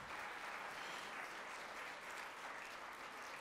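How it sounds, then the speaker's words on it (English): Steady audience applause fills an event hall at a jewelry red carpet revue, dense and continuous with no voices over it. "That is definitely a round of applause."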